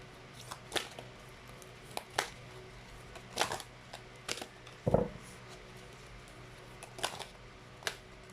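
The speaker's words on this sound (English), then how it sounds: "It's so hard to shuffle the cards because they're way too long" Long affirmation cards are shuffled and handled close by in several short, scattered bursts of papery flicking and tapping between quiet pauses.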